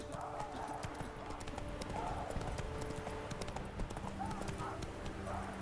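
Horse hooves clip-clop in a steady walking rhythm in The Witcher 3: Wild Hunt, close and clear, with a voice speaking briefly over the hoofbeats.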